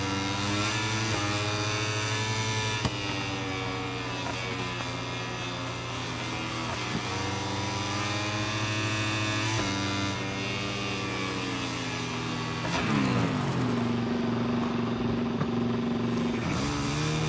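Dirt bike ridden around a dirt track, its engine droning steadily with rising and falling revs as it works through corners, loud and close throughout with no talk.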